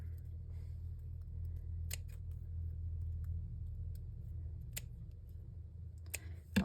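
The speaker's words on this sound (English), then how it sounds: "I'm going to cut that little flower off." Scissors snip a small paper flower off a craft tag in a few sharp, quiet clicks, spread apart over a soft low rumble of background traffic.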